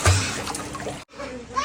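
Water splashing and sloshing as a man bathes in a filled tank, a steady wash of splashes with a brief pause, while people talk over it.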